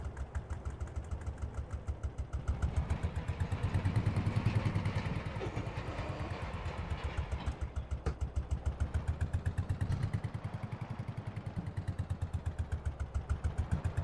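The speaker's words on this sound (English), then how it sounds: "Definitely a heavy middle roller because it keeps pushing the tractor on." A tractor pulling a heavy middle roller in the Farming Simulator 22 video game, a steady pulsing engine chug with rhythmic thudding that swells and eases as the load shifts, no voices.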